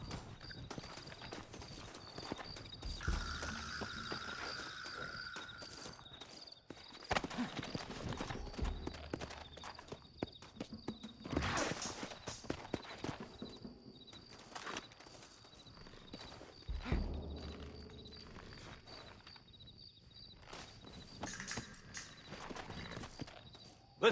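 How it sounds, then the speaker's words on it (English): Horse hooves clip-clop in bursts of trotting in the video game Red Dead Redemption, moderately close, with gaps and occasional thumps between them. "Looks like Carlos left us some horses"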